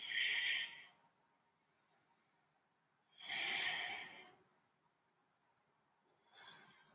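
During a yoga flow, three slow, audible breaths are forced out through the nose, each a soft, airy rush lasting about a second, separated by quiet pauses.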